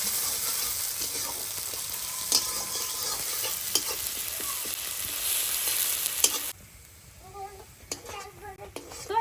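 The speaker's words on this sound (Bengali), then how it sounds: "তো এইদিকে আমার পেঁয়াজগুলো একদম লাল লাল করে ভাজা হয়ে গেছে" Chopped onions fry to a reddish brown in a wok while being stirred: a loud, steady sizzle runs for several seconds, then drops to a quieter crackle with scattered scraping clicks and a faint voice.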